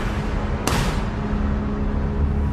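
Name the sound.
gunshots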